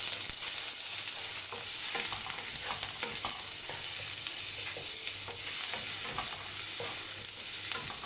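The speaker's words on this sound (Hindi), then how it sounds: "2 से 3 टेबलस्पून ऑयल डाल लिया मैंने पैन में और इसमें लहसुन अदरक ऐड कर रही हूँ।" Garlic and ginger frying in a few tablespoons of oil in a pan, a steady close sizzle with scattered stirring scrapes running throughout, no voices.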